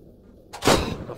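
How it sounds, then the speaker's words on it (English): Grenade blast in a video game battle: after a quiet lull, a sudden loud booming explosion bursts and rolls off in a short rumbling tail, with no talk. "they're shooting grenades at us"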